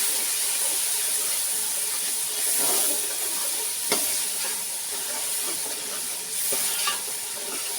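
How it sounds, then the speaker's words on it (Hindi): Steady frying sizzle and hiss with occasional stirring clinks, as water poured into frying masala for aloo kofta curry gravy cooks in a hot pan. "थोड़ा सा हम पानी भी डालेंगे इसमें"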